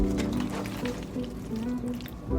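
Cooked macaroni pasta being stirred into a thick cheese sauce, producing close, wet squelching and sticky slapping sounds in an uneven rhythm, with low background hum and some speech-like tones.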